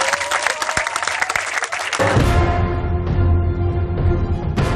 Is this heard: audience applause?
yes